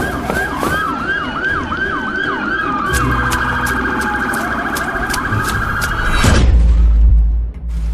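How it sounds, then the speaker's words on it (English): A loud wailing police siren cycles rapidly up and down, then shifts to a steadier tone before cutting off into a low engine rumble. "The sound of their rapid footsteps and the distant wail of sirens."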